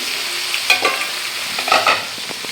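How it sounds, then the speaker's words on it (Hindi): Parwal (pointed gourd) bhujia frying in a pan, a steady broad sizzle with a few louder stirring scrapes around the middle and later, close and alone with no voices. "यहाँ पे पहले परवल का भुजिया बनने के लिए चढ़ा दिए हैं"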